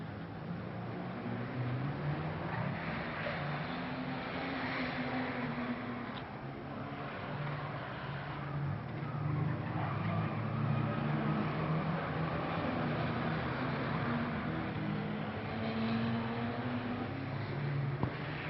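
Banger racing cars lap an oval stock-car track, a continuous distant roar of several engines rising and falling over the full stretch, steady and moderately loud with no clear pauses.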